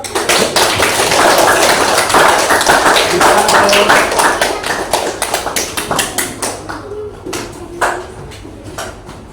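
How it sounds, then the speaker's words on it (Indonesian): Hands clap in a classroom-style setting, with loud, close, rapid claps from a small group that thin into scattered individual claps toward the end. "Tepuk tangan buat Dimas."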